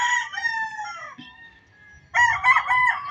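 A rooster crows loudly nearby, and after a short quiet stretch chickens break into a burst of clucking and squawking.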